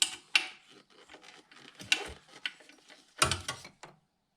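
A spanner undoes bolts on a Suzuki Alto alternator with close, uneven metallic clicks and ratcheting scrapes coming in short bursts, then a louder clatter near the end.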